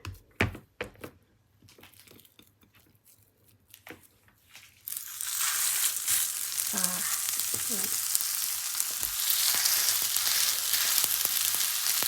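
Seasoned beef balls frying in a pan: a few scattered clicks and taps, then a loud, dense sizzle bursts in and crackles steadily to the end.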